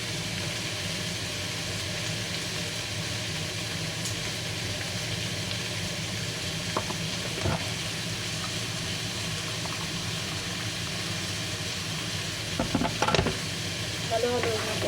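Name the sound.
stirring sweet and sour chicken sauce in a pan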